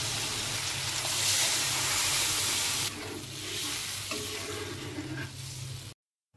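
Fish curry in a pan hissing loudly as broth is poured in, a dense close sizzle that eases somewhat midway and cuts off abruptly near the end.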